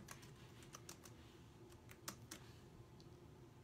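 Typing on a computer keyboard, a quick irregular run of close, crisp key clicks over low room hum, with no talking.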